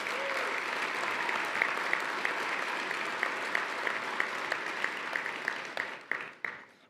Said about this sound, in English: Let's give a round of applause to all those great,